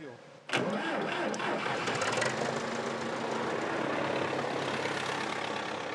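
An old tractor engine in rural Cuba cranks and catches abruptly, then settles into a loud, steady, rough idle that runs on without a break.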